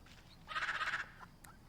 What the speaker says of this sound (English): So now I got a pet duck.